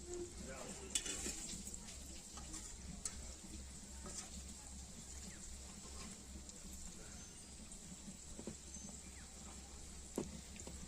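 Tal bora, palm fruit fritters, frying in oil, a quiet continuous sizzle with small pops and occasional clinks of stirring, faint throughout.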